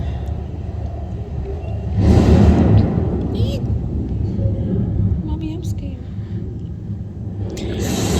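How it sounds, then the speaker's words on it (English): A deep thunder sound effect booms through a dinosaur exhibit at a public museum, a swelling low rumble that peaks and slowly fades, while someone speaks over the noise. "as the thunder booms, as the lightning strikes"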